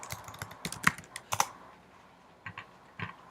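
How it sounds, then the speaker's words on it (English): Keys clatter on a computer keyboard as a command is typed: a quick run of close clicks followed by a pause and a few last taps. "So I'm going to type in the command hatch."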